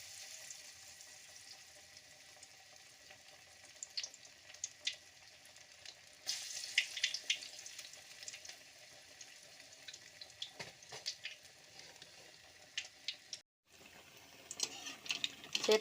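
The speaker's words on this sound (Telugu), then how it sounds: "ఆయిల్ హీట్ అయిన తర్వాత చేత్తో ప్రెస్ చేసి వడలు వేసుకోవాలి." Pressed vadas fry in hot oil, a faint, steady bubbling sizzle with occasional sharper crackles and brief louder spurts, and no talking.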